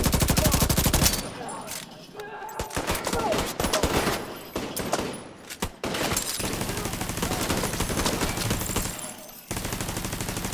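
A turret gun firing in The Division 2 shooter game, long loud automatic bursts broken by brief pauses, with a few separate shots and a voice talking underneath.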